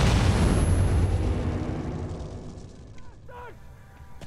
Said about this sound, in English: there is the grenade!